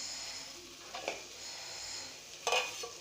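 Sautéed ingredients, softened for a potato nugget snack, are stirred in a pan over a faint sizzle, with a few clinking scrapes of a utensil against the pan, two of them louder, and no voices.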